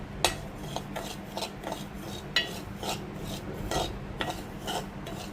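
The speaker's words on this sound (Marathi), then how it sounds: "मी आता रवा भाजून घेणार आहे। चांगला खरपूस रवा भाजून घेऊया।" Semolina being dry-roasted in a heated pot while stirred, heard as a rhythmic gritty scraping of the spoon against the metal, close and fairly soft, with no talking.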